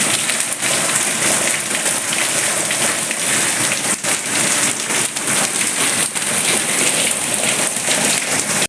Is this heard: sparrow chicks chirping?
no